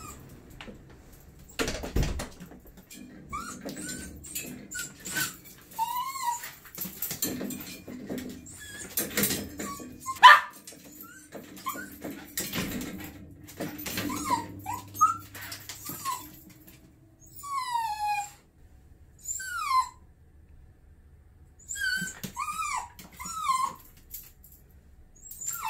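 A clingy dog with separation anxiety whimpers and lets out high whining cries and occasional yelps during grooming at a grooming shop, with scattered clattering and handling noises between the bursts.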